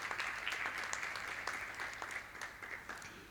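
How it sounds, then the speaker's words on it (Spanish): An audience at an architecture networking event gives a short, moderate round of clapping for a pair of architects, individual claps audible and the sound tapering toward the end. "Fuerte aplauso para ellos."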